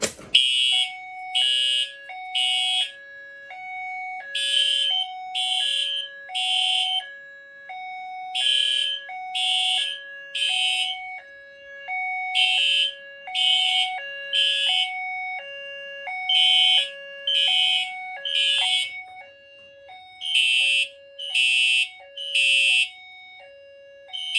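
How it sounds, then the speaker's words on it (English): A Johnson Controls JBG12LX fire alarm sounding during a system test, a steady repeating pattern of loud tone bursts paired with flashing horn pulses, cycling evenly throughout with no talking. "next up, we're going to reactivate again with the Johnson Controls JBG12LX"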